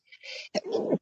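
A person sneezes twice in quick succession, the first a short breathy burst and the second louder and fuller, close to the mic.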